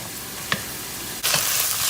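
Tomato paste fried with minced meat in a pan gives a steady close sizzle, with a couple of sharp scraping stirs, one of which brings a brighter burst of frying.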